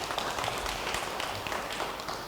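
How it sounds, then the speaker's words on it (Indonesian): A church congregation applauds during a sermon, a dense, steady wash of many hands clapping that holds evenly for a couple of seconds with no voices above it. "Yang percaya, beri tepuk tangan bagi dia."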